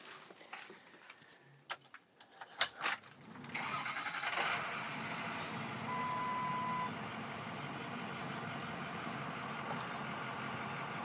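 A 2006 Ford F550 diesel truck engine cranks with a few sharp clicks and bursts, then catches and settles into a steady, moderately loud idle rumble that carries on to the end.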